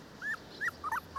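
Twelve-day-old Cane Corso puppies give four short, high whimpers and yips in quick succession, faint and close, with no talking.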